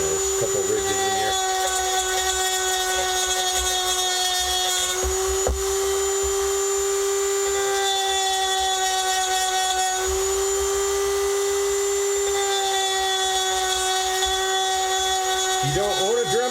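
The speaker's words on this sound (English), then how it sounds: "You don't own a Dremel tool? Buy one." A Dremel rotary tool whines at a high, steady pitch as it grinds down ridges, running continuously at close range, with the speed dipping briefly near the middle and again at the end.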